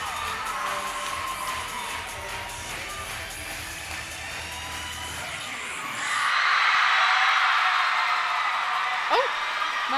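A crowd cheers at a cheerleading championship, with loud sustained cheering and whooping from the audience and children shouting, some voices heard under the crowd noise, swelling louder in the second half.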